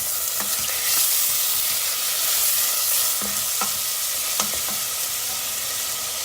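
Steady loud sizzling of chicken frying in a pot, with occasional scrapes and light clinks from stirring, and no voices.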